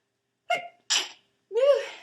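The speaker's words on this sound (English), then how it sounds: "I have to sneeze." A single sneeze, close and fairly loud, preceded by two short sharp intake-like bursts and ending in a longer voiced release; no talking around it.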